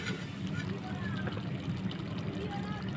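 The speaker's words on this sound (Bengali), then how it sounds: "এবার আমি অল্প করে জল দিয়ে দেব" Water is poured into a pan of cauliflower curry, giving a continuous sloshing, bubbling wash at moderate level throughout, with no voices.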